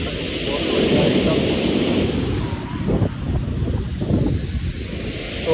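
Sea waves breaking and throwing spray up onto the Eastbourne coast, a broad rushing surf roar mixed with gusty wind buffeting the microphone, with voices talking faintly underneath.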